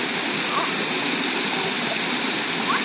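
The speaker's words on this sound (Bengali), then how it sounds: "জলের কি আওয়াজ শুনতে পাচ্ছেন?" Water rushing over rocks in a stream or small waterfall, a steady broadband roar that stays constant and close throughout, with no talk over it.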